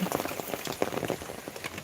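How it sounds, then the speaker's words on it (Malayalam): Heavy rain patters densely on a hard surface, a close, continuous drumming of dense drops. "അത്യാവശ്യം നല്ലപോലെ മഴ പെയ്യുന്നുണ്ട്"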